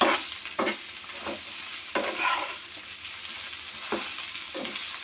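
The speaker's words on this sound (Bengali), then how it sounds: "এবার ভালো করে এগুলো মিশিয়ে নিতে হবে।" Eggplant is mixed with ginger garlic paste in a frying pan, with gentle, spaced spatula scrapes every second or so over a low, continuous sizzle.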